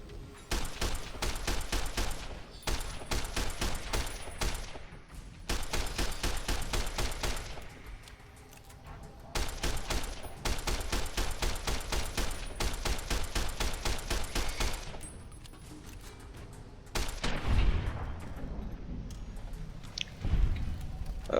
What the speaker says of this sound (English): I can finish off with the service rifle.